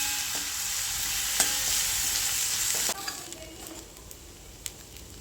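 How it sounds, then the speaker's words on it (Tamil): Chilli powder being stirred into fried onions in a pan for a garlic curry, a hissing sizzle that drops in level partway through, with a few close spoon clicks and scrapes. "2 கரண்டி குழம்பு மிளகாத்தூள் போட்டு பச்சை வாசனை போகிற அளவுக்கு கிளறி விடுவோம்"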